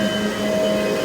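Vacuum pump drawing down a Carrier 30GX chiller through its bundle and accumulator line, a steady mechanical hum with a constant pitch that runs unchanged and alone for about a second.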